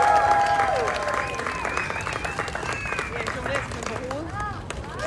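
A crowd applauds steadily at an Independence Day event in Boston, the dense clapping holding for several seconds, with some whistle-like tones and chatter mixed in.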